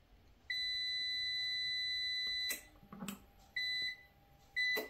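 Electronic alarm beeping in high, steady tones from a nJoy Cadu UPS with a battery error: a long two-second beep, then shorter beeps after a pause, with faint clicks and handling noise between.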